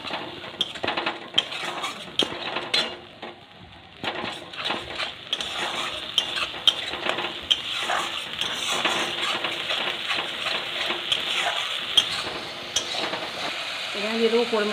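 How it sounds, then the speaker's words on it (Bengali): Spice paste with turmeric and a little water fries in a wok for doi potol, with close sizzling under repeated scraping and clinking of a metal spatula against the pan. "মশলাটা কষিয়ে নেবো"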